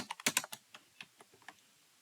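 Computer keyboard keys clatter as C++ code is typed for a coding problem, a quick flurry of crisp clicks followed by sparser, softer keystrokes, close-up with no talking.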